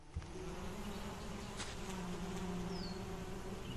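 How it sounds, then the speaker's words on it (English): Bees buzz steadily in the Solarpunk survival game, where beehives sit near the camp, a faint but continuous droning hum with a few brief higher whines, no talk. "Man, those bees get loud."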